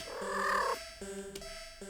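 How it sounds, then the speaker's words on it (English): A cat in a horror game purrs in a steady, droning rumble with a few brief pauses, fairly close and continuous, with no voices. "The cat sounds happy."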